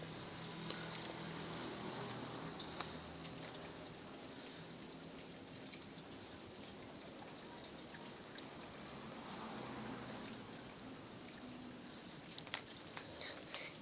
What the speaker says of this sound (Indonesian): Di sini tidak ada apa-apa guys selain ada hantu bunyi jangkrik